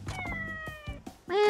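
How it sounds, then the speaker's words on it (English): A cat meows in the video game Like A Dragon Ishin. A drawn-out meow is followed by a brighter, rising meow at the end, with short game noises in between. "Aw, look at the kitty."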